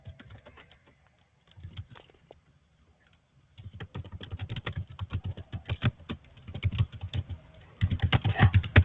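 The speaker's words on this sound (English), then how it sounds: "My typing slow, sorry" Someone types on a computer keyboard at close range in quick bursts of clicking keystrokes, with a pause early on and then denser, faster typing toward the end.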